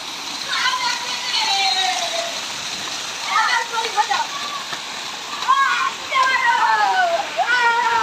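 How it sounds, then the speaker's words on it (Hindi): Drain water rushes and splashes steadily as children bathe in it during the rain, with high childish voices calling over the constant watery wash. "ये देखें, बच्चे नहा रहे हैं पानी में, पर नाले के पानी से।"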